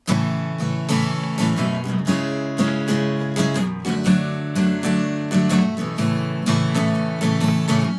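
Acoustic guitar strums through the four chords of a song, a steady run of bright, full strokes close up with no voice.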